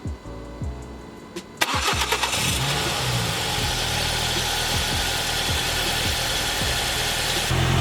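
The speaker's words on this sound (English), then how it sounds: "Just going to turn the car on and check for leaks" A Ford ST car engine cranks with a brief starter whir, catches and settles into a steady, loud idle nearby, running evenly with no voices.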